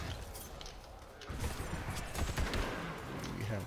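Gunfire in Borderlands 3, a first-person looter shooter, with a Zane build firing the High Noon Maggie pistol: a steady spread of sharp cracks and impacts over busy game noise, getting thicker and louder about halfway through.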